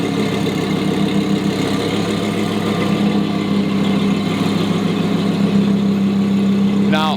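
A twin-turbo Lamborghini Huracan at a street race event runs steadily, its deep rumble holding loud and close for several seconds before a brief rising whine near the end.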